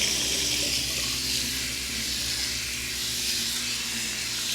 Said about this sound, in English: So now we're gonna rinse.